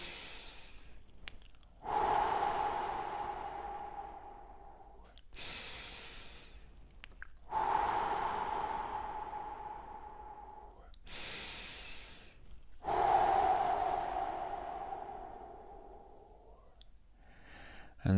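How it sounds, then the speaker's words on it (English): Three big, deep breaths, each a slow audible inhale followed by a long, gradually fading exhale, close to the listener with quiet pauses between them. "we're going to start by taking 3 big deep breaths as usual."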